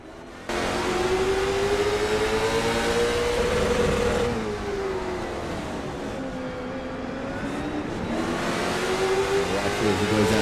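A race car engine in sim racing on the Charlotte oval revs loudly and continuously, the pitch rising and falling as the throttle is worked through the laps, with no talk over it.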